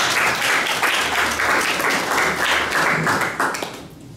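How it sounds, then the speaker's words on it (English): Conference attendees at a repatriation and investment event in Ghana give a full, close round of applause that holds steady and then tapers off near the end. "Let's give him a round of applause."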